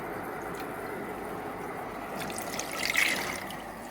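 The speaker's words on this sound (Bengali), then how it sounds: "একটু পানি দিয়ে দেব," Water pours steadily into marinated broiler chicken for biryani in a cooking pot, a soft close trickle that swells slightly near the end, with no talking.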